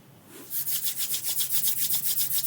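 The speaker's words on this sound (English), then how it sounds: "Perhaps even rub your hands together" Palms rubbing briskly together during a yoga nidra session, making a rapid, even series of dry swishing strokes, close and clear, with no other sound.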